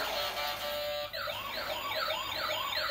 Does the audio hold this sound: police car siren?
yes